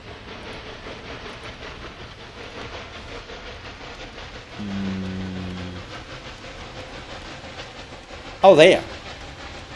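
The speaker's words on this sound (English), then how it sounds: "Can we watch the train?" A train in Railway Empire 2 rolls along with a steady rumbling clatter under game music. A low horn sounds midway and a brief sharp burst comes near the end. A voice speaks briefly.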